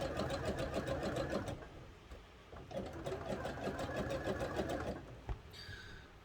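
A sewing machine finishes the seams on a pair of wrestling tights in two bursts of rapid, rhythmic stitching separated by a short pause, close and fairly quiet.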